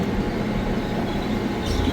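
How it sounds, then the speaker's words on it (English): An airport monorail train pulls away from the platform with a steady, broadband rumble of wheels and motor heard from inside the car, loud and continuous, with a faint hiss rising near the end. "Please hold on. The train is departing."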